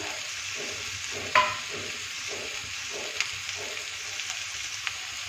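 Pumpkin pieces sizzle in a pan alongside potatoes, with a steady soft frying hiss, a sharp clink of a utensil early on and gentle stirring scrapes.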